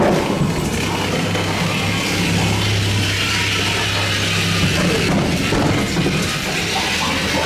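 A ghost train ride at Southport Pleasureland: a continuous loud, dense rumble and clatter of the moving car, with a steady low drone and scattered rattling noises throughout.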